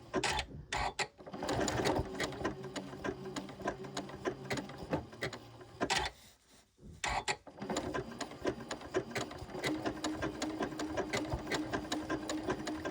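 Domestic sewing machine stitching a buttonhole-stitch appliqué, running in a steady fast rattling rhythm, close and fairly loud, with one brief pause partway through before it starts up again.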